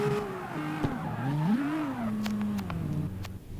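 A drifting car's tires squeal in the CarX Street racing game, giving wavering, sliding tonal screeches over a low engine hum, with a few sharp clicks near the end.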